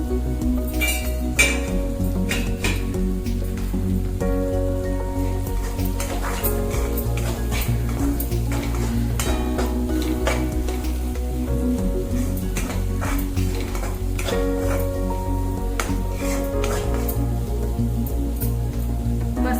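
Spices sautéing in a pan for dry French-bean sabzi, with a steady low sizzle under frequent clinks and scrapes of a spoon stirring against the metal, continuous and near, under background music.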